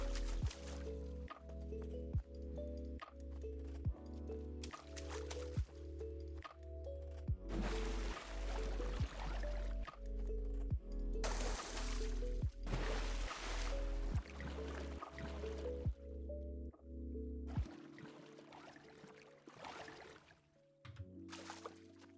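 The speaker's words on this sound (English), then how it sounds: "Like all the various splashing sounds you have to make." Water drips and splashes in the video game Path of the Shell, heard as a steady series of soft, regular drip clicks over sustained tonal game music, fading near the end.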